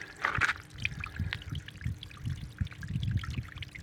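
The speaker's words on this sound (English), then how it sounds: "I think that's okay, a little trickling sound." Water trickling into a small ferrocement soaking pool, a faint, uneven stream of splashes and drips close by, with a brief louder splash near the start.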